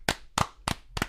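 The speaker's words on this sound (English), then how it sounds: "clap it up for Big J journalism right there" Four sharp, separate hand claps from a single person, close and loud, spaced roughly evenly with short gaps between them.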